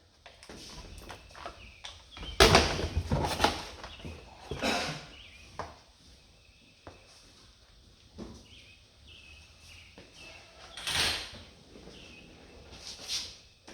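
Someone pumps the power brake pedal of a 1969 Mustang with the engine off after a disc brake conversion, giving a handful of separate dull clunks and thumps spaced seconds apart against a quiet background.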